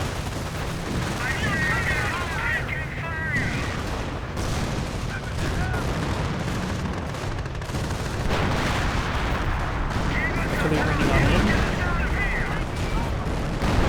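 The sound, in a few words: artillery barrage explosions in Company of Heroes video game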